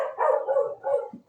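A dog barks close and loud three times in quick succession, deep throaty barks with short gaps and no talking.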